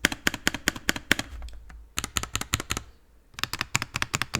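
Keys clacking on a DarkBeacon Flux 87 keyboard near the microphone, bursts of crisp presses with a deeper thump among them and brief pauses between runs.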